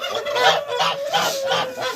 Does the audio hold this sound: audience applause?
no